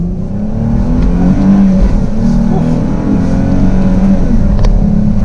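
A 2019 Dodge Charger GT Plus engine accelerates along a straightaway, a loud, steady, low drone heard from inside the cabin, rising slightly in pitch.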